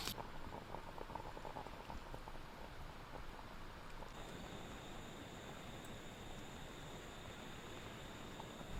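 A pot of water simmers with a soft, continuous bubbling hiss, steady and close, with no voices.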